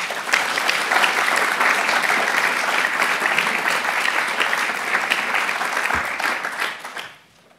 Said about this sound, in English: Ladies and gentlemen, please welcome Dr. Matt Baum.